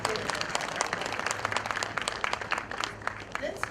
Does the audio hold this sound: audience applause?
yes